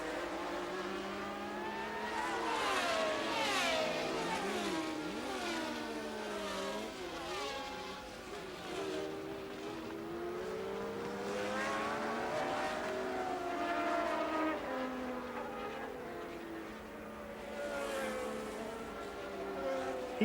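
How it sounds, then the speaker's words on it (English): Formula 1 cars racing at the 1982 Dutch Grand Prix at Zandvoort, engines wailing and rising in pitch as several cars pass at a distance, overlapping whines swelling and fading on a fairly quiet broadcast track. "Rosberg came steaming up to chase Tambay"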